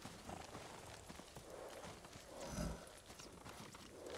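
Horse hooves step softly and fairly faintly in Ghost of Tsushima, an irregular walking clop set against a low ambient background with no speech.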